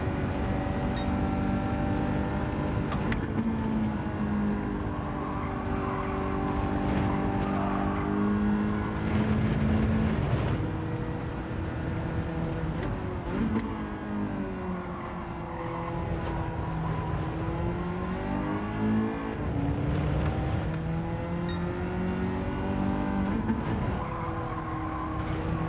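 A race car engine in Gran Turismo 7 revs up and down through gear changes for a long stretch, loud and close, with tires squealing and skidding through corners.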